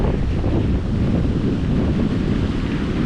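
Strong wind buffeting the microphone over a continuous rumble of rough, choppy lake water in El Salvador, loud and unbroken.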